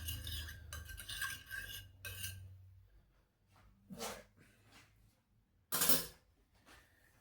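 Olive oil and seasoning mixture being stirred in a bowl for a simple chicken dish, heard as short bursts of utensil scraping and clinking against the dish, loudest near the start and in one sharp burst toward the end.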